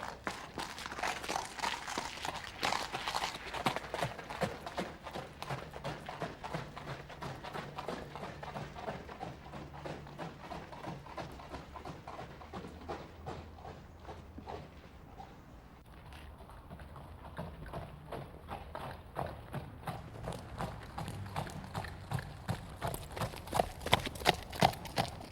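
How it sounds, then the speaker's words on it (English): Horse hooves strike the ground in a steady, even trot, two beats to each stride, the clip-clop repeating in a regular rhythm throughout and growing slightly louder toward the end. "The trot is a 2-time pace. There are 2 beats to every stride."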